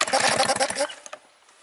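A drowned outboard motor being cranked to flush out water gives a rapid, loud, rhythmic chugging for under a second, then stops with a couple of faint clicks.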